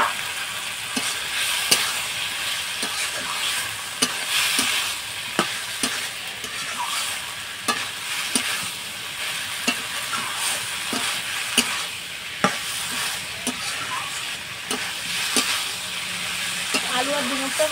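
Potatoes and figs sizzle steadily in oily spice paste while a spatula scrapes and taps the pan at a regular pace, close and continuous with no talking.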